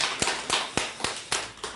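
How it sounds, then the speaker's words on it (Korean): A church congregation gives a short round of applause during a Sunday worship service, heard as a few distinct, sharp claps spaced roughly a quarter second apart, moderately loud and echoing in the sanctuary. "감사와 영광의 박수 올려드립니다."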